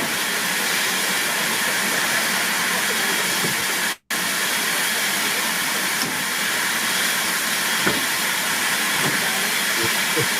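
Steam train on the Severn Valley Railway, a steady, loud broadband hiss and chuff running throughout with a single brief cut near the middle and no talking.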